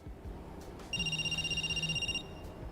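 A telephone rings once in Cash Cleaner Simulator, a bright electronic trill lasting about a second over a low background hum, clear and close.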